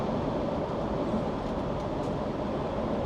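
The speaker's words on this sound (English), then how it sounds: "Oh, we're passing another train." A loud, steady rumble and roar of a passing train in Switzerland fills the whole stretch, dense and unbroken, heard from very close by in a tight gap between two trains.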